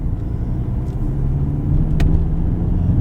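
Steady low drone inside a Volkswagen Golf Mk7 diesel cruising on the road, a continuous rumble of engine and tyre noise that holds even and close throughout.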